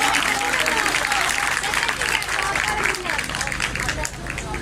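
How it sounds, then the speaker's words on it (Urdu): Congregation clapping loudly during a church service, a thick continuous roar of hands mixed with crowd murmur and a low hum, tapering slightly near the end. "زور تالیاں بجائیں خدا کے جلال کے لیے"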